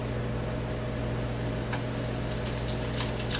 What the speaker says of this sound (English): I'm going to finish up frying the rest of my calamari here.